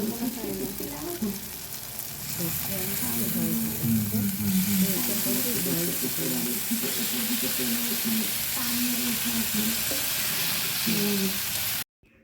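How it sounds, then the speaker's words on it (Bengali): Fish frying in hot oil in a pan in a home kitchen, a loud steady sizzle with scraping stirs throughout and a faint voice beneath, stopping abruptly at the end. "মাছটা তো দিয়ে আমি নাড়াচাড়া করছি"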